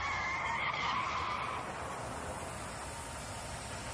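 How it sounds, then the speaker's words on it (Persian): A car tire squeals in a long skid, loudest at the start and gradually fading into a hissing wash; the burst itself is not distinct, and no one speaks. "چرخ ماشین کفید."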